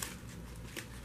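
A pink bubble mailer package is handled up close, giving a soft, continuous crinkly rustle with a brief louder crackle partway through.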